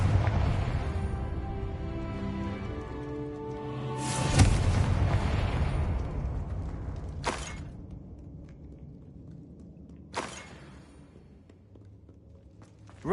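Confringo spells explode in Hogwarts Legacy, a loud blast followed by two sharper booms several seconds apart, each trailing off over a low rumbling game ambience.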